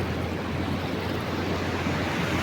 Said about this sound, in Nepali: यस्तो निस्किरहेछ क्या पानी